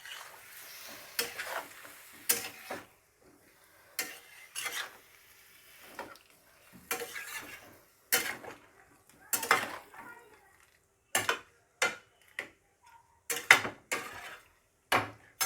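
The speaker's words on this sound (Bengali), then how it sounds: "পুরো মশলাটা কিন্তু এই সয়াবিন আলু পেঁপের সঙ্গে ভালো করে কষিয়ে নিতে হবে" Spices, soybean, potato and papaya are stirred and sautéed in a pan over medium flame, with a spoon repeatedly scraping and clanking against the metal in irregular bursts separated by short pauses, close and fairly loud.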